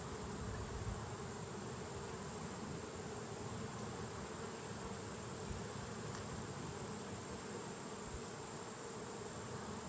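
Honeybees from combined hives drone steadily throughout an October hive inspection. The buzzing is dense and continuous, close and even, with no voices over it.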